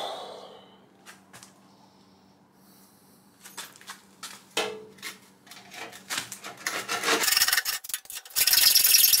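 A hacksaw cuts through a metal exhaust pipe on an E46 BMW, starting with sparse scrapes and clicks, then building into loud, rapid rasping strokes up close.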